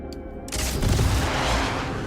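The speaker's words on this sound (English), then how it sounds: "their turrets are just relentless" Enemy turrets fire relentlessly in a sci-fi video game battle, a sudden loud barrage of rapid, dense gunfire bursts that erupts after a brief quiet moment and keeps roaring without pause.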